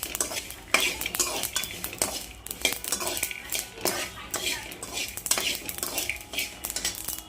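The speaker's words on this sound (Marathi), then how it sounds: "चला तर मग आपण तीळ आणि शेंगदाणे एकत्र करून भाजून घेऊया।" Sesame seeds and peanuts dry-roasting together in a pan, a spoon scraping and stirring with rapid rattling and clinking bursts against the metal, close and moderately quiet, no talk.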